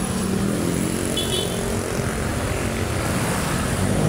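Rusi Flex 125i scooter engine running steadily while riding, a continuous broadband drone with wind rush, loud and close throughout without any talk.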